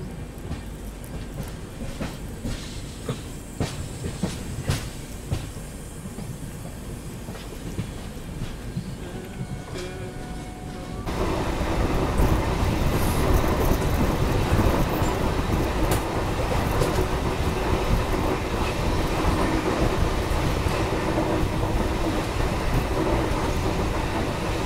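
The 12713 Sathavahana Express runs from Vijayawada toward Secunderabad near Motumari Junction with an ongoing rumble and wheel clatter that grows noticeably louder and fuller about halfway through, then stays steady.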